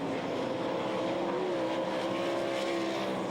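Sprint cars race through a heat at Knoxville speedway, a steady dense engine roar with a whining pitch that shifts as the field passes, loud and continuous with no talk.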